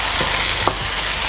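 Spices, chili powder, turmeric and garam masala, get stirred into mutton curry in a hot pan, a brief scrape of the spoon over a soft continuous sizzle of frying.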